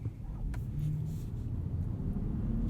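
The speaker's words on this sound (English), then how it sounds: "Little example of stop-start turning on there" A 2021 Ford F-150 Raptor's engine restarts through auto stop-start, giving a low, steady rumble at close range with a brief faint catch near the start, no talking.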